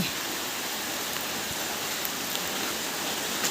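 Heavy rain from storm-driven weather pours steadily in a dense, continuous hiss with no letup, loud and even throughout, with no voices.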